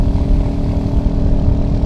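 Royal Enfield Hunter 350 motorcycle engine on a test ride, a demo bike with about 363 km on it, giving a steady, loud low rumble that holds close and even throughout with no talk over it.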